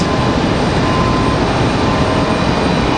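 An airplane at Raleigh Durham International Airport, likely a JetBlue jet starting its takeoff run, gives off a steady, loud, broad engine roar that fills the whole stretch without a break.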